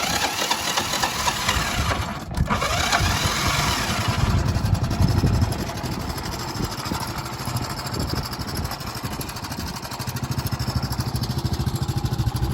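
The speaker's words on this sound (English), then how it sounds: "got a little bit of timing chain noise, but it had some noise when I sold it" A 1985 Honda Fourtrax TRX 125 quad idles steadily and close, its small engine chugging with a light ticking timing-chain rattle, rising slightly around the middle before settling back to an even idle.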